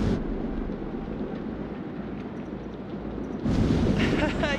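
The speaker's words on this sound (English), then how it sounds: "Big storm coming in from the east." Thunderstorm rolling in over the sea in the game Man of Medan; a heavy, sustained low rumble of thunder with wind and rain noise, loud and continuous, swelling near the end, with voices talking at times.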